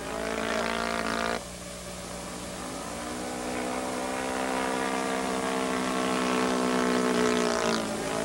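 An Ultimate aerobatic aircraft performs a snap roll, its propeller engine droning loud and steady with rich harmonics, dipping abruptly early on and then swelling and shifting in pitch through the manoeuvre.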